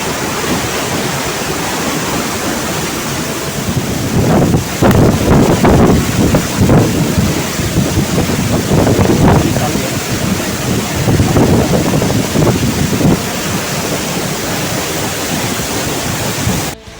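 The Sendang Gila waterfall in Lombok roars up close, a dense continuous rush of falling water with gusts of wind buffeting the microphone, loud and unbroken without speech.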